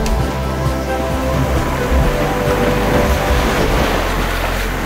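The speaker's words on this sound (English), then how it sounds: "She's sailing along beautifully." Steady rushing wind and water wash against a sailboat heeled over under sail, a constant broadband roar with low rumbling, and no voices.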